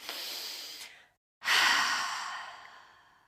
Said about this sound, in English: let's pause for a moment and just take a deep breath